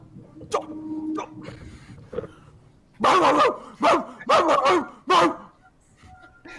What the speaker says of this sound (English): No barking! Bad boy!